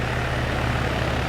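Steady drone of a Little Bird helicopter engine idling in the Arma video game, a continuous low hum with rotor throb, even and unbroken throughout.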